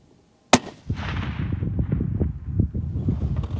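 A single sharp rifle shot cracks close by, aimed at a steel plate roughly 1,025 yards downrange, followed by a long rolling echo and wind buffeting the microphone, with no one speaking.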